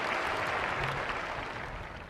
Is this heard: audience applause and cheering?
yes